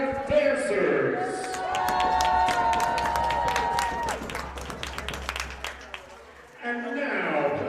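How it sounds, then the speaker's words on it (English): A crowd at a Jersey Bearcats vs. Steel City Stampede game applauds and cheers for a dance team throughout, clapping steady and spread out, with an amplified announcer's voice and music mixed in over it. "please give a round of applause for the Lady Bearcat dancers."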